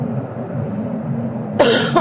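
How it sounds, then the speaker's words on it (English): A harsh, loud cough bursts in near the end over a steady background hum, close and abrupt. "Oh, this cough is gonna kill me."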